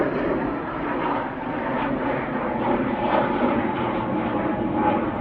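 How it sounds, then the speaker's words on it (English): A Silver Aviation Pilatus PC-24 business jet at Manchester Airport gives off a steady, fairly close engine roar with a gentle, pulsing rise and fall, heard alone with no voices. "Silver Aviation with their PC24"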